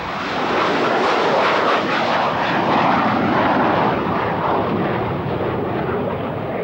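A super jumbo jet airplane roars loudly and steadily with a broad, continuous engine rumble that holds at an even level throughout, with no voices.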